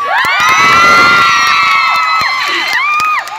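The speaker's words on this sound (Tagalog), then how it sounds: "pumalakpak po na may kasamang iyaw" A huge concert crowd shouts and cheers loudly, with high, sustained yells and whoops over scattered clapping, the roar fading slightly toward the end.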